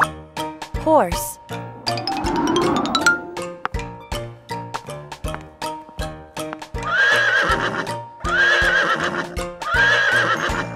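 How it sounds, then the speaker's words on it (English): A horse neighs in a loud, shrill whinny near the start, followed by hoof clip-clop, chiming bell-like hits and a repeated cartoonish sung or voiced passage within a children's song. "Horse."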